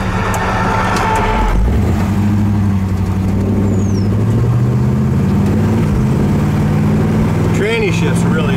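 A 1964 Pontiac LeMans convertible with a 455 engine drives by loudly and steadily, pulling hard and climbing through smooth gear shifts, with a continuous engine drone and rising pitch.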